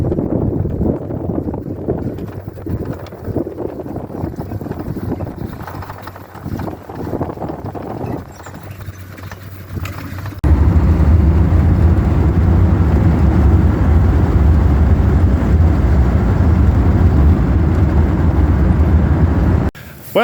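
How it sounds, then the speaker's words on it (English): An old, beat-up Chevrolet S10 pickup drives over dusty ground, its engine and tyre rumble loud and close. The noise thickens into a steady, heavy roar about halfway through as the truck gets up to speed. "I'm driving the beater S10."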